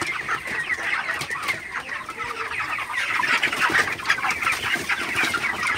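Many broiler chickens cluck and chatter together in a dense, continuous flock sound, fairly close, with no talking.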